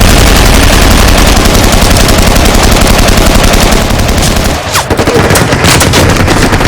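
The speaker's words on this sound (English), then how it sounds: "pin down the bunker machine gun with their own machine gun and small arms fire" Sustained machine-gun bursts and small-arms fire in a Finnish war film battle scene, loud and dense, dropping to a few scattered shots near the end.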